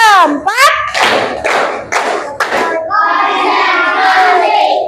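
Children in an elementary school classroom clap in a rhythmic counted pattern, several sharp bursts of hand claps close by, followed by a sustained chorus of young voices chanting together.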